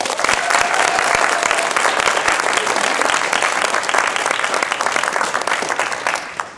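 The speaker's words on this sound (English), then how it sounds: "let's give them a big round of applause" An audience at a demo day event applauding its sponsors: dense, sustained clapping that fills the room at steady loudness for several seconds before easing slightly.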